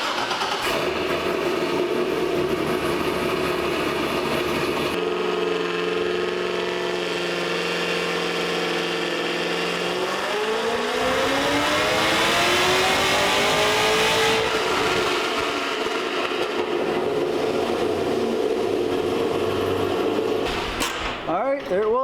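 A C6 Corvette with a BTR Stage 4 cam, full exhaust and HP Tuning tune is run on a dyno, idling and then revving in one long, loud, rising pull before backing off.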